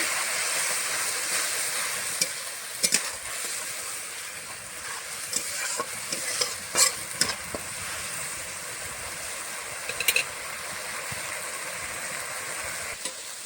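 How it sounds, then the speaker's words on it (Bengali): Spices with turmeric, salt and chilli powder stir-fried in oil give a steady close sizzle, with intermittent scraping clicks of a spatula against the pan. "মশলাটা এখন ভালো করে কষিয়ে নেব।"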